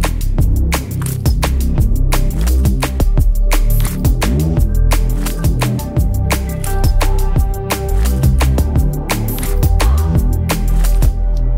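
A Reese bass built from detuned sawtooth oscillators in the Razor synth, pushed through a dirty limiter, plays loud and distorted with a deep rumbling low end and rhythmic, sharply attacked notes repeating across the phrase.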